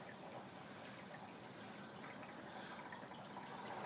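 Water trickling and splashing steadily through the overflow siphon of a 75 gallon aquarium, a constant close wash of flowing water with no talk.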